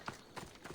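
Horse hooves clip-clopping in a video game, three quick soft steps in under a second, close and moderately loud, with no voices.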